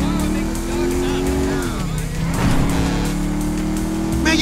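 A roaring motorcycle engine in Grand Theft Auto V, loud and sustained with a shifting pitch, under in-game talk and other vehicle noise.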